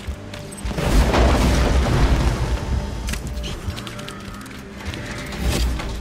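Automated turret fire in Borderlands 2, a burst of booming mechanical shots and rattling machinery at moderate loudness, swelling then fading with a few later bursts.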